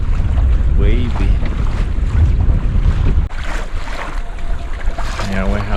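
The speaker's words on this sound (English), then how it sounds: "It's the worst kind of wind. Northerly, gusty wind." Cold, gusty northerly wind buffets the microphone aboard a canoe yawl under sail, a loud continuous roar mixed with wave wash and rigging noise, while a voice speaks intermittently over it.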